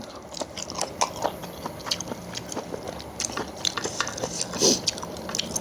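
Someone eats steamed ruby tilapia with fermented-fish chili dip and boiled okra, producing close, soft wet chewing and smacking with occasional small crunches in an irregular rhythm.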